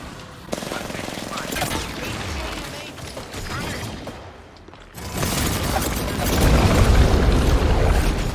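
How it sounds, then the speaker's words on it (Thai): Loud Apex Legends explosion blasting a door open and rumbling gunfire bursts, with a burst of noise swelling again after a short lull, over excited talking. "มันระเบิดประตูอะ"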